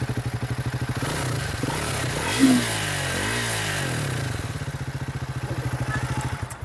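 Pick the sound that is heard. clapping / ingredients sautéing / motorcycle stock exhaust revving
motorcycle stock exhaust revving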